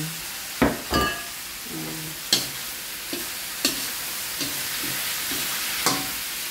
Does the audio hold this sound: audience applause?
no